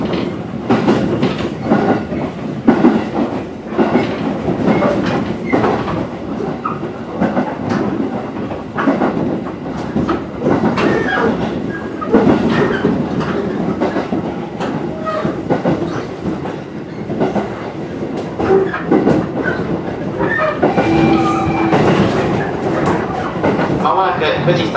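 A Fujikyu Line 211 series electric train runs steadily along the rails from Kawaguchiko toward Takao, with a rhythmic clatter and rumble throughout, loud and close, heard from inside a carriage.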